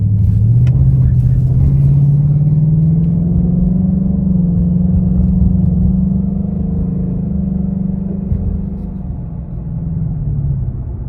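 A Ford Mustang GT with a ram air intake mod rolling slowly through a parking lot, its engine a close, steady low drone that swells gently and eases off toward the end.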